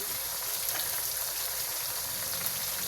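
Pulao ingredients fry in a pot with a steady, dense sizzle and crackle that holds an even loudness throughout, close up and with no voices over it.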